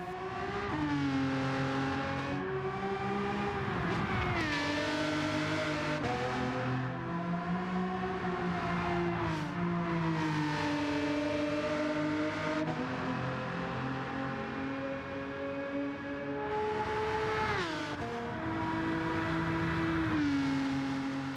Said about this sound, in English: I absolutely love the engine note of this car